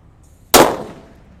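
A sunflower firecracker, unwrapped by any paper casing, goes off in a single sharp loud bang that rings out and decays over about a second, with a faint hiss of the burning fuse just before it.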